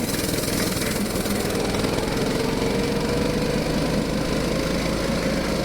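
A Bt200x mini bike engine runs steadily on ice, a constant close buzzing drone held at high revs for the whole stretch with no voices over it.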